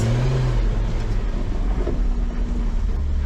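A GWM four-wheel drive engine gets a brief throttle bump while crawling up a steep hill, a steady close low drone that swells slightly, with no talking.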